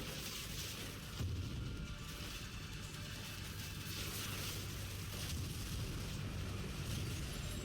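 Continuous loud rumbling blast noise with dense low-end booms throughout, like sustained explosions and gunfire in Call of Duty: Ghosts filling the whole stretch.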